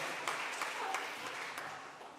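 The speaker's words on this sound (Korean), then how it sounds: "좀 박수 좀 보내주세요." A church congregation claps together during a sermon, a fairly faint, even patter of applause with a few distinct claps, heard from some distance.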